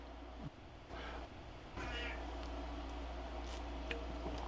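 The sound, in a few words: cat meowing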